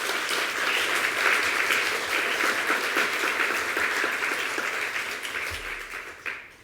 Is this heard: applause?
yes